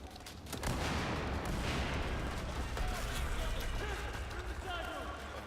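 Bursts of rapid gunfire crack and thump in quick succession amid a busy, noisy Battlefield 4 game soundscape, with voices talking over the shooting.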